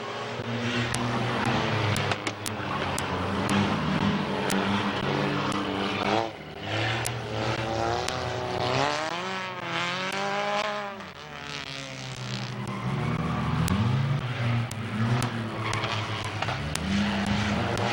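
Figure-eight race cars at Midvale Speedway roar away at the start of an eight-lap heat race, loud engines revving and shifting in overlapping waves, one car's pitch rising and falling as it passes close.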